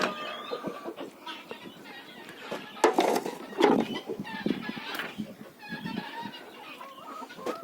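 Chickens cluck and squawk in a village yard, with overlapping calls that come and go close by and a few louder bursts. Faint clattering sounds in the background.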